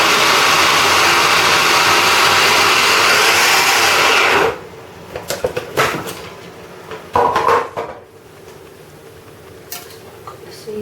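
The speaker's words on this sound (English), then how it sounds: "Give it a quick chop." Blackberries and rose hips get a quick chop in a kitchen appliance, a loud, steady motor whir for about four seconds before it stops, followed by scattered clatters and knocks.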